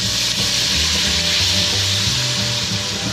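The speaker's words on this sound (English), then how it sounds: "Let's go ahead and add that marsala wine to it." Marsala wine hitting a hot, well-seared pan to deglaze it, giving a steady, loud, close sizzle with a bubbling hiss throughout and no talking.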